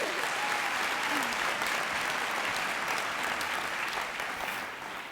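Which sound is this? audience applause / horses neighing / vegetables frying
audience applause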